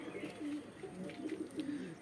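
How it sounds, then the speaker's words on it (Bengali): Madras pigeons coo softly in a loft, a steady low murmuring of overlapping calls close by with faint background noise and no talk. "সব ম্যাড্রাস পায়রাই আছে"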